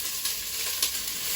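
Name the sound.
diced onion and garlic cooking in a pan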